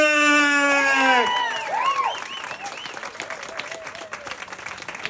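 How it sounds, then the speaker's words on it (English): Crowd at a comedy club charity mic night clapping and cheering for a comedian, entering after a few fading sustained tones and continuing as a dense, lively round of applause. "Start clapping real loud for Parker Busick!"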